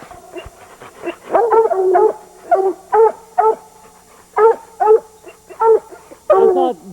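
Hound dogs bay and bark at a bear up a tree in the woods during bear season, loud bursts of howling barks coming in a rough, repeated rhythm, close by with no talking.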